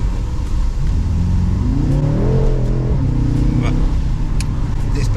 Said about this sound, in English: It's got the sports exhaust as well